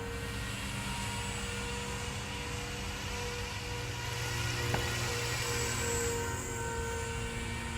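A Walkera V500D01 flybarless RC helicopter hovering, a steady whining rotor and motor drone with even tonal hum, constant and moderately distant, rising slightly near the end.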